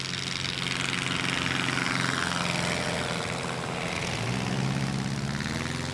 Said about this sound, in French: Éric utilise la pente pour prendre de la vitesse. Le décollage est immédiat.